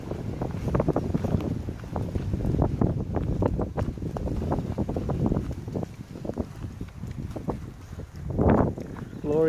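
Gusty wind buffets the microphone on a breezy, chilly day on a hiking trail, loud and uneven throughout, with a brief stronger blast near the end.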